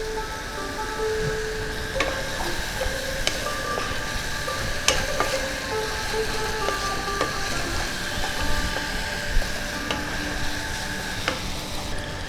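Spice paste with turmeric, a little sugar and ground spices frying in a pan for a duck egg curry, with a steady sizzle under repeated scraping stirs and occasional sharper spoon clicks, close and moderately loud, no talking.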